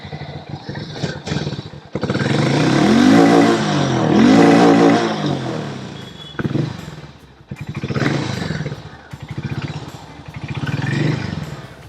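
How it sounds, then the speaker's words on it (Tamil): A Harley-Davidson X440 motorcycle engine and exhaust rev in repeated loud, throaty bursts that rise and fall close by, with short pauses and idle between the blips. "ஹார்லியோட சவுண்டு அப்படியே இருக்குது."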